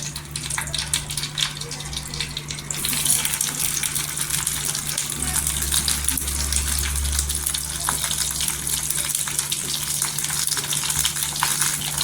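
Salted brinjal pieces fry in hot oil with a continuous loud sizzle that swells slightly after a few seconds and then holds steady.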